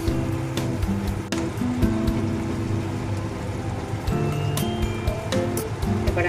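Fried potatoes drop into hot spiced oil with Kashmiri chilli powder, setting off a close, crackling sizzle with scattered sharp pops and clinks.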